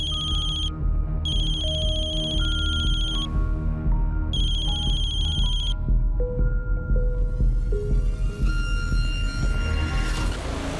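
A mobile phone ringtone plays loudly and steadily, a repeating electronic melody with bright beeping bursts, ringing on and on for about eleven seconds without any voices.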